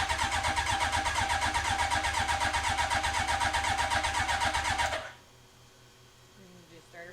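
Hayabusa-powered Can-Am X3 engine cranking over and over without catching, a loud steady rhythmic starter churn for about five seconds, then cutting off to quiet room noise with faint movement.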